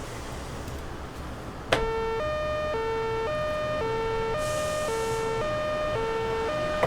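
A synthesizer imitates a French ambulance siren, with a steady two-tone pattern alternating high and low at an even rhythm. It starts abruptly after a short stretch of quiet hiss and plays loud and alone.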